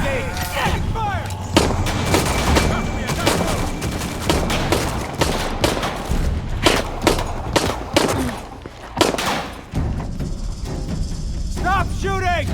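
Rapid bursts of enemy gunfire crackle through a firefight in the Shadow of the Tomb Raider video game, loud and repeated, with shouted combat callouts from soldiers in between.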